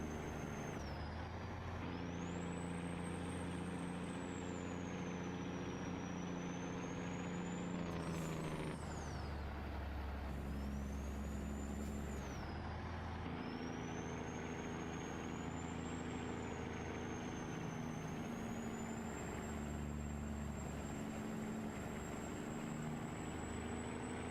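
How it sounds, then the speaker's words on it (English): A heavy American truck engine roars steadily as it labors uphill, wound out around 1800 rpm, its droning pitch rising and dropping with gear changes, loud and continuous throughout. "I love listening to this truck scream up the hill."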